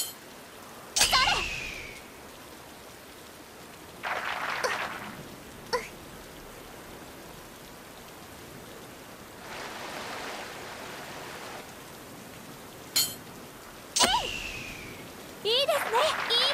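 Rain falls on a golf course at the fifth hole in Everyone's Golf 6 on PS3, a steady soft hiss running throughout, broken by several sharp louder game sounds and swells, with a voice talking at times.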